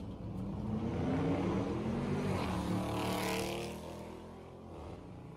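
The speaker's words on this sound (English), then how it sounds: "You got people racing by and stuff." Motorbikes and cars from a street bike-life scene roar past with a loud, sustained engine drone and rising revs that hold for several seconds before easing slightly toward the end.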